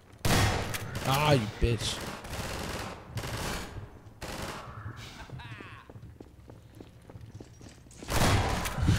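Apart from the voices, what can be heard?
gunfire in the video game Half-Life 2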